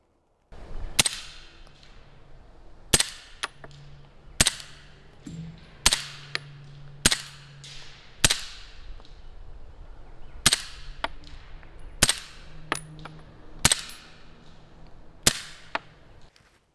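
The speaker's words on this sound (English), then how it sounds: "let's see if the F4L is capable of cycling and running with subsonic ammunition" Suppressed Beretta M9A4 pistol with an AB F4L suppressor firing subsonic ammunition: about eleven sharp, close reports spaced roughly a second or two apart, each a hard crack with a brief tail, the mechanical action audible between shots.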